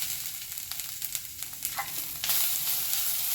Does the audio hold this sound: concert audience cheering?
no